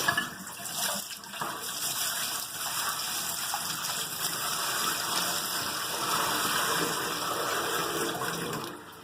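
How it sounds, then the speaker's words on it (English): Brine poured out of a container for a deep-fried turkey, a steady rushing gush of liquid splashing down for several seconds at close range, with no talk. "dump out all this extra brine."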